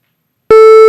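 A pure Web Audio oscillator tone starts abruptly after a short silence and holds steady and loud for about half a second.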